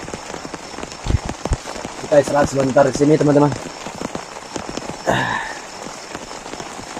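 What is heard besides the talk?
heavy rain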